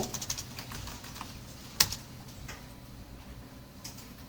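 Fingers tap keys on a computer keyboard in a few light, scattered clicks, close and quiet, with one sharper click standing out partway through.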